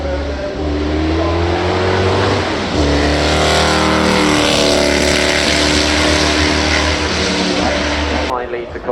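Cosworth V12 race car with race-grade suspension and a manual gearbox at the Goodwood Festival of Speed, its engine roaring loud and close in a sustained, rich drone that climbs and falls in pitch before cutting off near the end.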